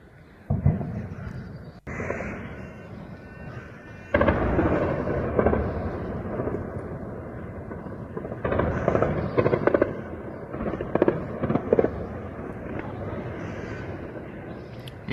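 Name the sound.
gunfire near Kyiv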